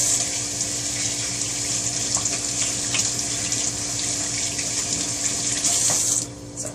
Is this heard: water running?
yes